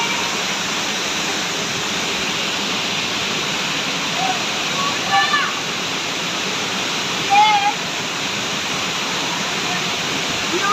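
A waterfall in Kirinyaga roars as a steady, loud, unbroken wash of falling water that fills the whole clip, with a couple of faint brief voices barely rising above it.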